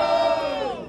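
Rap battle crowd roaring and yelling for rapper Lili, a dense, loud burst of massed shouts and whoops that holds strong briefly and then starts to fade.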